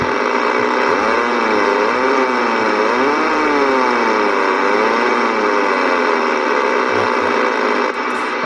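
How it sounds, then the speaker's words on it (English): A vehicle engine revs and is heard over a Radioddity CS 47 CB radio fitted with a Tram 3500 antenna. It comes through as a loud, constant, radio-filtered drone whose pitch rises and falls for several seconds, with no talking. "you hear it when I rev the engine up, you can hear it right through the radio"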